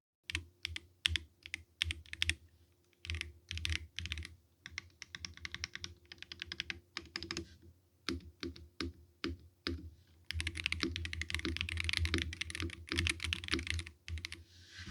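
Rapid keystrokes on an iRok ND63 Pro mechanical keyboard, close and clear, come in bursts of clacky typing with short pauses, then a denser continuous stretch of fast typing toward the end.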